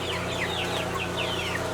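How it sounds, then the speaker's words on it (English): Cornish cross chickens cluck close by in a barn holding about 900 birds, a dense overlapping chorus of short rising calls over a steady low hum. "There's around 900 chickens in here, give or take a few."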